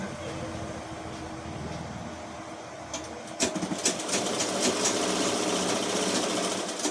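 A sewing machine stitches a fall border onto a saree, starting partway through after a quieter stretch of room noise, then running as a steady, rapid mechanical whirr close by.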